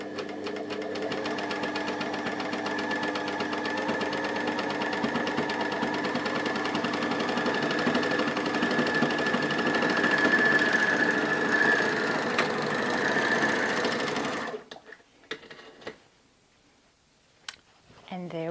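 Overlocker sewing a gathered fabric frill with a gathering foot, a fast steady mechanical whirring hum with rapid stitching clatter running loud and continuous, then stopping abruptly, followed by a few faint handling clicks.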